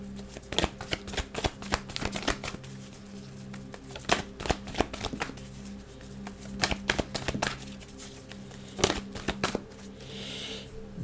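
Tarot-style spirit cards riffled and shuffled by hand for a reading, a steady run of close, crisp flutters and snaps with brief pauses between bursts.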